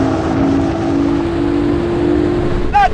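Porsche 911 GT3, with its naturally aspirated engine, and a 911 Turbo S accelerate hard in a drag race, producing a loud, steady engine roar throughout with a brief rising whine at the very end.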